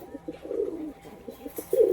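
Giribaz pigeons, a local high-flying breed, coo nearby in soft repeated throaty bursts, with a couple of longer rolling coos and no talk.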